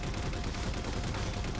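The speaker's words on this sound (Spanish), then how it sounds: "Pues que llegan disparos de lado." Gunfire in the Halo 4 video game: a steady, dense crackle of shots coming from the side, moderately faint and continuous, with no talk over it.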